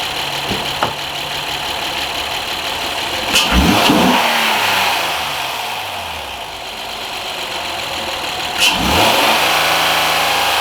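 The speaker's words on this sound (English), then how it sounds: "Let's give it some gas and rev it up high." A 2010 Honda Accord 3.5 engine with a flashing check engine light idles, then revs up high twice with sharp rising roars that fall back, the whine sweeping down each time.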